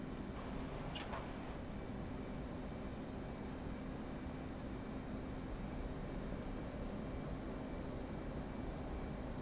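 An F/A-18 Hornet's jet engine in DCS drones in a steady, broadband roar from inside the cockpit during a low-altitude flight. The sound stays constant and faint throughout.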